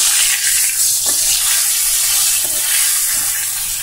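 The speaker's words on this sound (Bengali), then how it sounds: "মাছের মাথাটা আমি সুন্দর করে একটু ভাজা করে নেব প্রথমে" A katla fish head fries in a hot pan with a loud, continuous sizzle and hiss that runs steadily throughout, with faint stirring clatter underneath and no talking.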